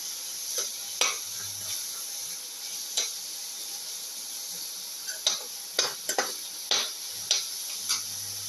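Shallots sautéing in a pan while cooking an eggplant and potato dish: a steady soft sizzle punctuated by irregular sharp clicks and taps of a utensil against the pan, close and alone.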